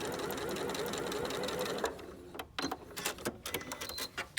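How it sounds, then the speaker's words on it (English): Sewing machine stitching quilt pieces along marked lines, a steady fast whirring run that stops abruptly, followed by a few sparse clicks and handling taps. "Okay, I've sewn on the 2 lines."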